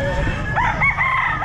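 A rooster crows loudly and close at the Grotto pet market in the Philippines, a single drawn-out call over a busy background murmur.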